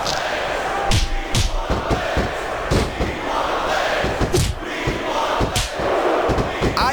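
Crowd noise in the WWE SVR 2006 wrestling video game, a steady roar of an excited arena audience with loud slams and thuds of ring action punctuating it throughout.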